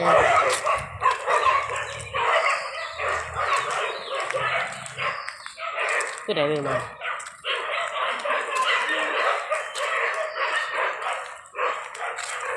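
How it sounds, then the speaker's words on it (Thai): A dog barks repeatedly from a short way off in an outdoor Thai setting, the yelps mixed with people talking and general background noise. "วิ่งหนีไปเพื่อไปเห่าอยู่ตรงนู้น"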